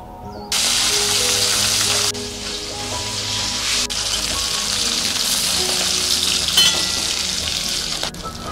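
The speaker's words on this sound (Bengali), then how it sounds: "তেলটা গরম হয়ে গেছে, এবার আমি মাছগুলো ছেড়ে দেব।" Koi fish frying in hot mustard oil in a kadai, a loud, steady sizzle and crackle that swells as the fish go in and holds on without a break, with no voices.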